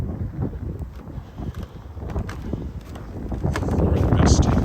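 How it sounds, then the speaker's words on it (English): Wind blowing on a snowy pre-dawn walk along a creek in Regina, buffeting the microphone in uneven gusts that grow louder toward the end, with footsteps and a voice underneath. "Looking west, which is into the wind."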